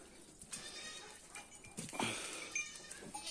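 Saanen goats bleat several times at close range, short nasal cries overlapping with farmyard rustling and background noise.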